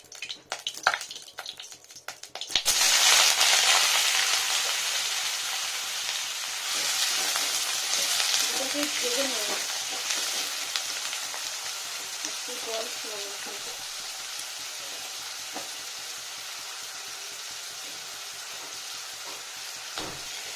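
Unsalted potato and eggplant pieces frying in hot oil produce a loud, continuous sizzle up close, with occasional stirring scrapes after a brief quieter start.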